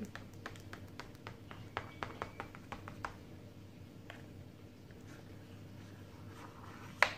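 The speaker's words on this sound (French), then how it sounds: "je vais bien découper mes parts jusqu'au bout cette fois-ci" A knife cuts a tray of kalb elouz semolina cake into portions, giving a run of light, quick taps and scrapes over a quiet kitchen hum, then a pause and one sharp click near the end.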